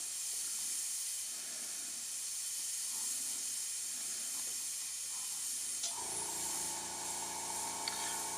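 Freehand airbrush spraying candy paint in short detail strokes, a steady close hiss running throughout, with a brief change in tone partway as the spray shifts, no talking.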